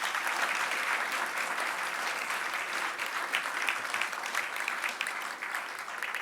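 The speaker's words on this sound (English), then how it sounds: "Round of applause, ladies and gentlemen." Applause from an audience at a book launch event on stage, dense, steady and sustained for the whole stretch, fairly close, with no voices over it.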